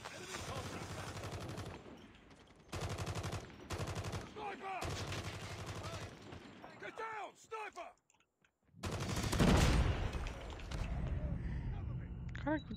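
Rapid bursts of heavy automatic gunfire from a Holger machine gun in Call of Duty Mobile, several loud sustained volleys separated by short gaps, with someone talking over the shooting.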